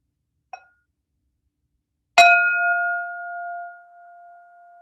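A single bell is struck once to open a resilience exercise, giving a bright metallic strike that rings out with a clear, sustained tone slowly fading in a quiet room, preceded by a faint small tap.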